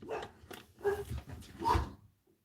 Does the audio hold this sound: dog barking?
yes